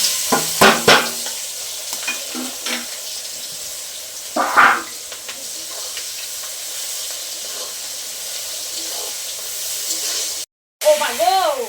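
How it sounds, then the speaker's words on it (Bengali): Dried red chillies sizzle and crackle in hot oil in a pan, a steady frying hiss with occasional stirring scrapes, while a person talks intermittently over it. "শুকনো লঙ্কা, লঙ্কাটা একটু ভাজা ভাজা করে নিব"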